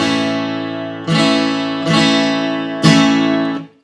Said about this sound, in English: A major sounds like this.